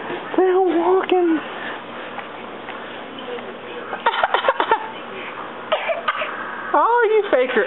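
A dog fake-coughs several times in short, husky bursts, repeated in clusters across the stretch, while a voice talks in between and over it close by.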